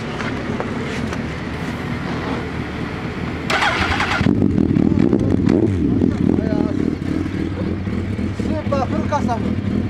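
A Suzuki Hayabusa GSX1300R with a Striker exhaust cranks and fires up, then settles into a loud, close, rumbling idle, while people talk briefly over it.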